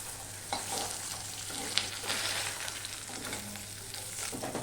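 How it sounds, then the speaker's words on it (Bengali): Pieces of magur catfish fry lightly in a pan, a soft, fairly faint continuous sizzle with a low steady hum beneath and occasional small spatters. "একইভাবে আমি সব মাছগুলোকে ভেজে নিয়েছি"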